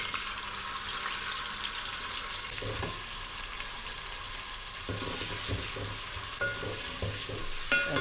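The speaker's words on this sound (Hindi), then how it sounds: "अब प्याज को फ्राई करेंगे।" Onions fry in about two spoonfuls of hot oil in a pan, a steady broad sizzle throughout with occasional stirring scrapes and clinks, close and continuous with no talking.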